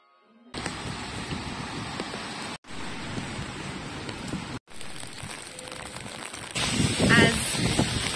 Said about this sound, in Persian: این شبه داره بارون میاد، خیلی باده. وای خیلی بارونه.